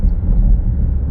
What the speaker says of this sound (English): V8 supercharged SUV that sounds like this.